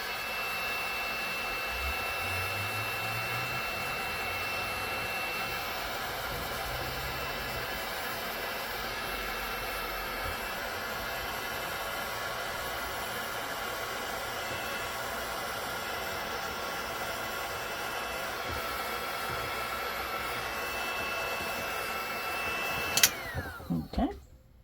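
Heat gun shrinking heat shrink tubing over solar wiring in a Leisure Travel Vans Wonder camper van: a steady, continuous blowing whoosh with a constant hum, holding evenly throughout before cutting off abruptly with a few short knocks at the end.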